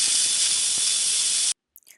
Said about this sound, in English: now you press this button and it releases this valve so that the steam can come out